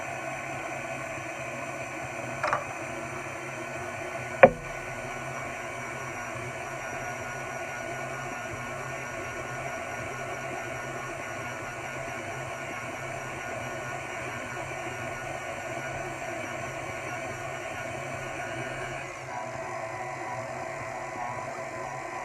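A stand mixer runs on low speed, mixing hot cross bun dough with butter: a steady, even motor whir that holds for about twenty seconds, with a couple of brief clicks near the start.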